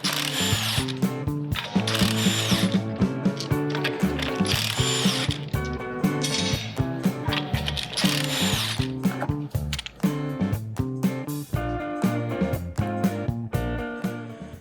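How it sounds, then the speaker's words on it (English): Wheel nuts on a 2011-2017 Honda Accord EX being removed with a power tool, a loud, rapid buzzing rattle that runs nearly nonstop with short pauses and pitch shifts between bursts. "First things first, take off the wheels of your vehicle."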